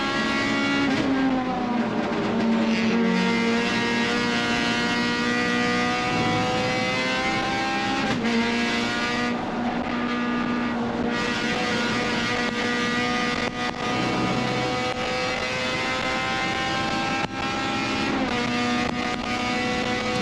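Race cars roar around the Lime Rock circuit, with a loud, sustained engine whine that climbs and falls through gear shifts and braking for the corners, and a nearby car's engine dominates throughout.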